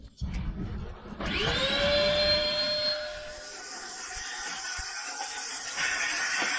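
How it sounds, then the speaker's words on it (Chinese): A vacuum cleaner starts up about a second in and runs steadily, loud and close, while cleaning the interior of a camper van, its motor whine rising to pitch and then holding with a slight drop near the end. "这一看就是要干大事的节奏啊，吸尘器都上了"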